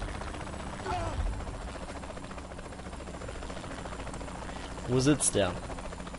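A helicopter in the video game Saints Row: The Third keeps up a low, steady rotor drone under ongoing German commentary, with a few louder bursts of game action near the end.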